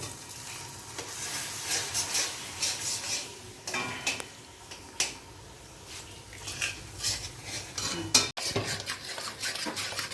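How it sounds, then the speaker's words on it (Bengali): About a cup of milk poured slowly into a pan of chicken curry and stirred, with soft scraping, light sizzling and occasional utensil clinks against the pot, close by. "এবার আস্তে আস্তে করে দুধটা দেব।"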